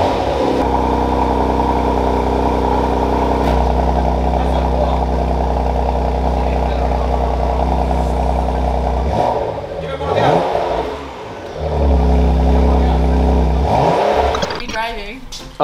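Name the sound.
Porsche Macan Turbo engine starting and revving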